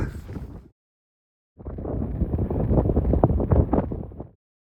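Wind gusts over a boggy landscape on the Isle of Harris, roaring heavily into the microphone in a short burst, then dropping out and returning as a longer, buffeting rush.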